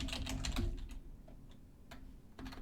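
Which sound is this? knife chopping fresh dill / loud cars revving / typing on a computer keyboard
typing on a computer keyboard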